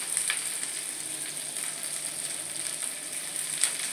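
Three green chilies frying in oil for a cauliflower and carrot curry, producing a steady hissing sizzle with occasional sharper crackles, close and moderately loud, no talking.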